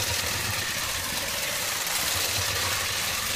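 Vintage 1976 LEGO 12V train motor running close to full throttle, a steady loud whirring drone that holds constant throughout with no talking.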